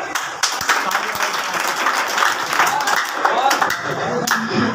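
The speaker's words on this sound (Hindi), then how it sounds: "तालियां भाई।" An audience at a gathering claps for the guests being introduced, steady clapping at moderate loudness with sharp individual claps standing out and voices mixed in.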